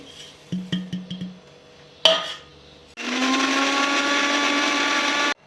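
A mixer grinder coarsely grinds sabudana with green chilies, cumin and salt: a few short pulses and a knock, then a loud steady whirring run of about two and a half seconds that cuts off abruptly.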